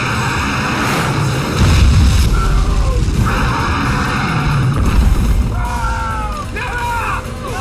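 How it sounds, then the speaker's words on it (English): A missile explosion in a monster film, heard as a loud rumbling blast and roaring engine-like noise that swells and fades over several seconds, with some tonal whooshing sounds near the end. "Red pries the monster's mouth open and Daddy Rabbit shoots a missile down its throat."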